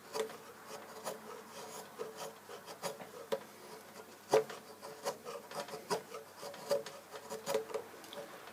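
Hand carving a wooden megalodon tooth, with close, dry rasping and scraping strokes in an irregular rhythm, fairly quiet, with no one talking.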